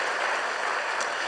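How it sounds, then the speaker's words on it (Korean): A church congregation applauds, a dense, steady wash of clapping filling the room at moderate volume with no voices over it. "우리 김미강 채맥 형제 우리 박수로 한번 격려해 주시기 바랍니다"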